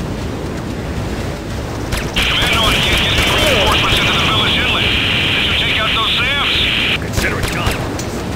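Destroyed enemy structure in Command and Conquer: Renegade: a loud, drawn-out rumbling blast with a sustained high ringing tone for several seconds amid crackling debris and battle noise, then fading back to background gunfire.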